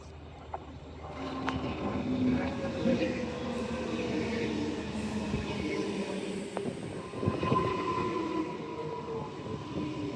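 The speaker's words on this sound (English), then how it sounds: "here's our NGR train doing the service" An electric NGR passenger train runs steadily nearby on Brisbane's Gold Coast/Beenleigh line with a continuous rumbling hum and rail clatter, occasional squeals and clunks, and faint voices in the background.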